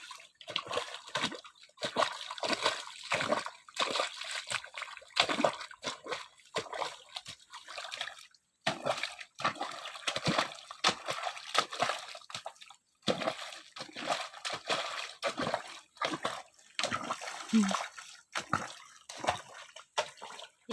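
Groundwater from a borehole gushing into a newly prepared fish pond, splashing and sloshing in uneven surges with short pauses, close and fairly loud, no speech.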